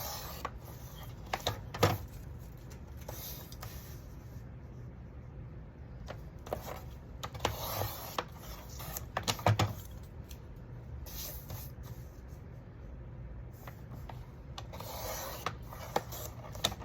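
Scissors or a blade cutting four pieces of material for altering a book cover, faint scattered snips and rustling scrapes at close range in a quiet room, with no talking.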